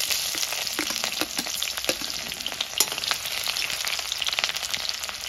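Onions fry in hot oil with bay leaves, cloves and cardamom, crackling and sizzling steadily up close, with occasional scraping stirs.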